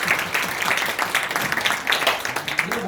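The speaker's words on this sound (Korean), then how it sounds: "우리 박수" A congregation of young people at a youth retreat worship service claps for a short stretch. The applause is moderate and uneven, with scattered individual claps and faint voices underneath.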